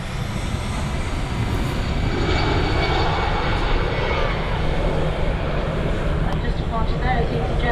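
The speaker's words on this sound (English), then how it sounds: "There is EasyJet A320 and that's on its way to Geneva" An EasyJet Airbus A320 airliner taxis at Manchester Airport, its engines giving a steady, loud broadband roar that holds for the whole stretch, with people talking nearby.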